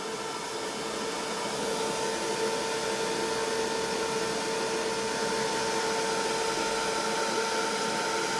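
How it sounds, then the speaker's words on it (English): A crafting heat tool blows hot air onto a thank-you card, a steady loud fan whine with a constant hum that holds unbroken and close throughout, no talking. "Because this is a heat tool, not an embossing tool, it's not quite as hot as one of the embossers"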